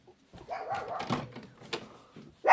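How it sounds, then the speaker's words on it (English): A pet dog barks from its yard at a person walking by, a few short sharp barks and whimpering sounds close to the listener, with a louder bark at the end. "He barks at people when I walk by."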